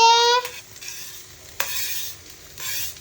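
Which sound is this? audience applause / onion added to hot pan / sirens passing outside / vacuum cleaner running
onion added to hot pan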